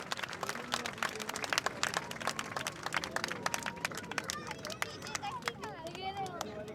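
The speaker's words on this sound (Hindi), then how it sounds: "पीछे वाले लगता है ताली बजाने में थक रहे हैं।" Indoor audience clapping at a Governor House iftar gathering, a dense patter of many hands filling the room, steady and moderately loud with crowd murmur and voices mixed in throughout.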